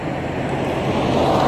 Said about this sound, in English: So there goes the helicopter.